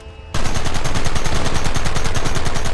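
Rapid gunfire erupts from silence in a Red Dead Redemption shootout, a loud, dense burst of repeated shots with a steady rhythmic pulse that continues without pause.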